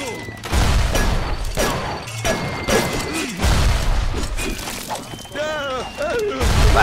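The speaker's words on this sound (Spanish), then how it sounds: "¿y si le pego así un par de tiros?" Gunshots ring out in BioShock Remastered as a series of sharp, loud shots spaced through the scene, mixed with clanks and game effects, while someone talks over the action.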